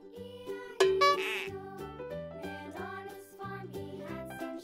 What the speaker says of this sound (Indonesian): kambing yang paling besar di sini.